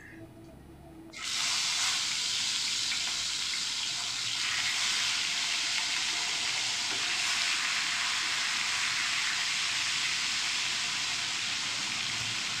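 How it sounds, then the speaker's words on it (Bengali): Fish sizzling in hot mustard oil, starting with a sudden loud hiss after a second of quiet, then a steady, dense crackling fry that holds up close for the rest of the time. "মাছগুলোকে ভেজে নেব"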